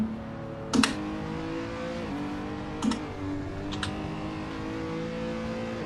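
A video game race car engine drones steadily, its pitch shifting as it revs, with a few sharp clicks scattered on top.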